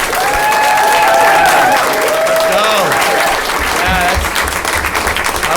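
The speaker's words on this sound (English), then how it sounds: "Can we give her a round of applause?" Round of applause at a school committee meeting in Lynn, a loud, sustained crowd clapping that fills the room, with voices and whoops rising over it.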